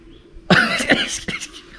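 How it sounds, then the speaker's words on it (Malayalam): A single sharp cough bursts out after a short quiet stretch, followed by a couple of rougher coughs or throat clears, close and fairly loud. "ചുമ വരണു"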